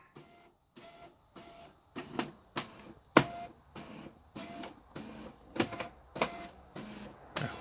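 An HP LaserJet Pro M102w printer repeats a mechanical whirring and clunking cycle during setup, roughly a dozen short rhythmic pulses, close and fairly quiet.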